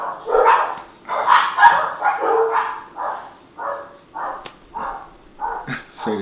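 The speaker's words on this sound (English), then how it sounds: "Sorry, the dog's just so bad." A dog barks repeatedly indoors, a string of close, fairly loud barks and yips at an irregular pace, with some whimpering toward the end.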